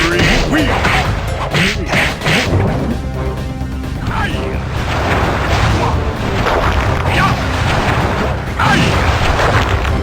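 Firework attack explosions from the Sly Raccoon video game on PS5, a dense run of crashing booms and whooshing blasts that repeat loudly across the whole stretch, with a voice shouting attack names between them.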